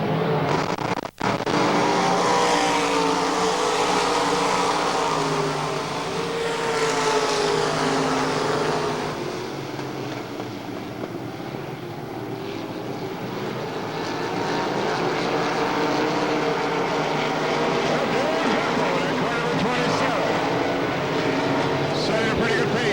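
A pack of race cars at Eldora Speedway in 1994 roaring around the track at the Deery Summer Series, a loud, continuous engine drone that swells and fades as the field passes, with announcer commentary over it.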